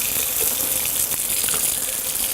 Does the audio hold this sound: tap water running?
yes